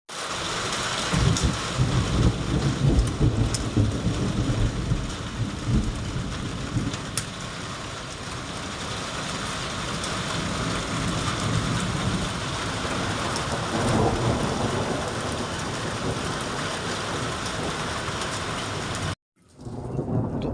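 Monsoon rain pours steadily over a mountain village in Pithoragarh, Uttarakhand, with thunder rumbling through a dense, continuous hiss. The downpour briefly cuts out near the end, then resumes.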